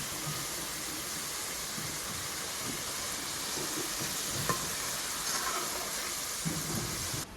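Murali dough pieces fry in hot oil with a dense, continuous sizzle and crackle, fairly faint and steady throughout, with a few small pops along the way.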